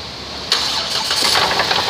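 A 2008 Chrysler Town and Country minivan with a bad engine cranks and catches about halfway through, then settles into a steady, fairly loud rough running sound close by.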